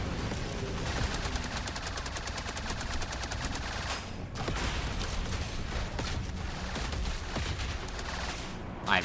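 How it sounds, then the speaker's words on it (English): Miniguns in Trailmakers, rapid evenly spaced bursts of machine-gun fire rattling almost continuously, with a short break near four seconds and a louder blast at the very end. "Miniguns, please aim at the thing in front of me, please."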